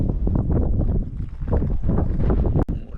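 Strong wind buffets the microphone on a beach, a loud, low rumbling roar with gusty surges that continues steadily, ending with a sharp click.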